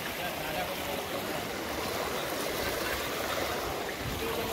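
A steady, broadband rush of flood water flowing through a low-lying area runs continuously throughout, loud and even, like a strong stream pouring past.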